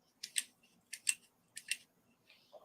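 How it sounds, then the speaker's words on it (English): Spring-action scissors on a budget multi-tool snip three times in quick, crisp double clicks, close and quiet, followed by a faint brief rustle. "And they're spring action as well, those scissors."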